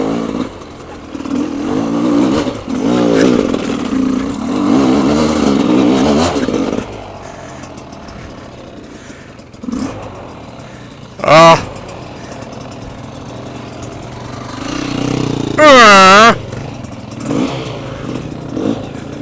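An off-road motorcycle at an OHV park idles and revs in bursts while crawling over rocks, with clattering and uneven throttle, long quieter stretches, and two sharp, loud rising revs later on.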